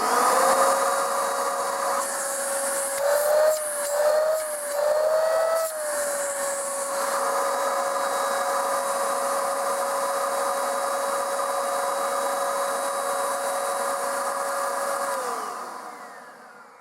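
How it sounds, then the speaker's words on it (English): A Eureka hand vacuum runs steadily up close, its high motor whine wavering briefly early on before holding a constant pitch, then dropping as it powers down at the end. "And here is the Eureka hand vacuum."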